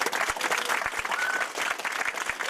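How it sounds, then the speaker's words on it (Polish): An audience applauds after a vocal studio cover performance, a continuous wash of clapping with a few distinct sharp hand claps standing out, moderately loud throughout. "Wielkie brawa."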